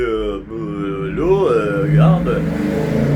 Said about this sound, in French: lui, il fait vraiment trop de bruit, là, ok, avec son type de moteur.